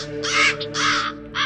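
Crows give three harsh, loud caws in quick succession, close and alone over a low sustained background tone.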